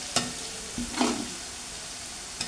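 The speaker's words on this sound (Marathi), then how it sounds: "मसाला लालसर होईपर्यंत भाजायचा आहे चांगला." Masala roasts in a pan for alu vadi, stirred with a few scraping clinks and a short sizzling rush, with a faint hum in the background and no talk.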